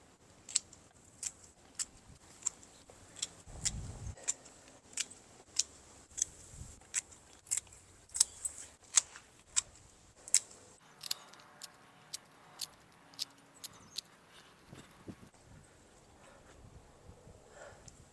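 Sharp, regular snips of scissors cutting flower stems during a garden bloom harvest, about one crisp cut every half second or so, close and clear against quiet outdoor background.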